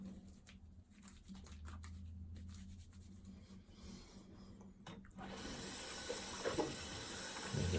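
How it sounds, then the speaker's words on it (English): A bathroom tap runs steadily while a shaving brush is rinsed under it, a continuous splashing hiss that swells louder in the last few seconds; no talking. "On for a second while I wash out my brush"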